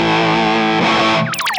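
A heavily distorted electric guitar with a sustained, bright jazz fusion tone, a thick held chord that shifts partway through, then gives way to short, choppy, squealing notes near the end, loud and close with no voices.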